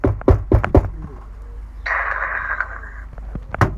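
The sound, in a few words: drawer of a washing machine being opened or shut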